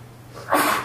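A single short sneeze bursts out after a quiet breath, loud and close.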